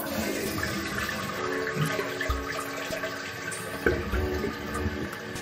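A toilet flushes after its flush chain has been shortened, with a continuous rushing and gurgling of water close by and a faint tap near the end. The churning stays fairly steady throughout.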